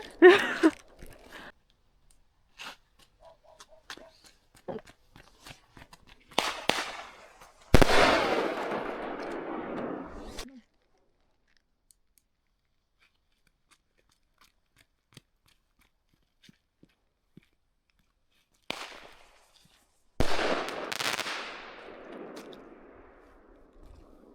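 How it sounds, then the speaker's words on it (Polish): TXC731 single-shot triplex fireworks go off in a few separate bursts, each a loud crack followed by crackling and sizzling that trails off, with small pops and long quiet gaps between the shots. "fajerwerki zrobiły nam naprawdę fajny show"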